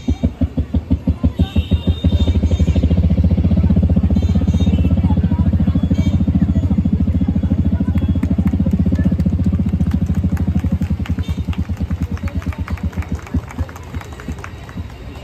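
A human voice imitates a water pump with loud, rapid, rhythmic throbbing pulses that build into a dense steady chugging and then thin out toward the end.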